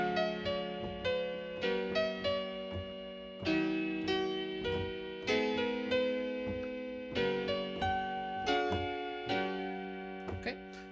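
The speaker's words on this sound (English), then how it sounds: "So if I just play through these chords" A chord progression harmonizing a folk melody, played through on a keyboard-like instrument as a series of sustained chords, each struck anew roughly every second, clear and alone at moderate level.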